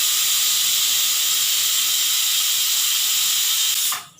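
A pressure cooker on a gas stove releases a loud, steady hiss of escaping steam through its whistle. The hiss stays even for about four seconds, then quickly fades.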